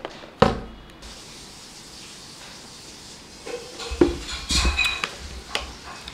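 A spoon stirs a pre-workout powder drink, the Grizzly Nutrition True Legend blend, with a sharp clink at the start and then soft swirling and a few light taps against the container, close and fairly quiet.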